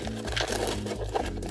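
Scissors snipping at a crinkly plastic pack of UFO yakisoba instant noodles, close up, a short burst of rustling and crinkling with no talking.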